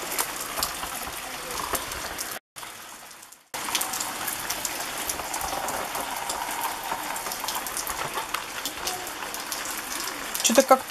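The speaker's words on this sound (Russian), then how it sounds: "Дождь увидел и все перехотел." Steady broadband hiss of rain falling on a surface, continuous and fairly close, with a brief dropout in the middle and a few louder drips near the end.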